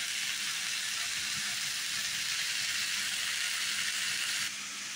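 Yardlong beans frying in a pan, giving a steady, dense sizzle that runs unbroken and close throughout, easing off slightly right at the end.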